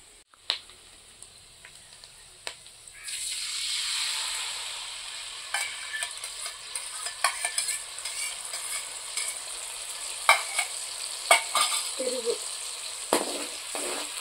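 Yogurt and turmeric hit hot oil and break into a loud, bright sizzle that stays steady, with scattered clicks and scrapes of stirring and a few faint voices toward the end.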